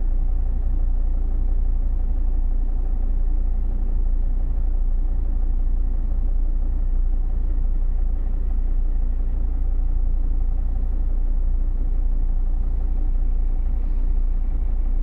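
Steady low engine rumble of cars idling in a traffic queue of people heading home from holiday cabins in Norway, a continuous drone with no voices throughout.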